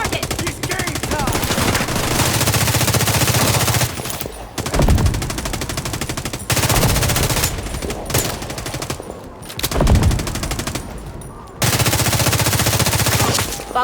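Sustained automatic gunfire rattles in The Division 2 shooter, long loud bursts broken by short pauses and heavy thuds, close and dense throughout.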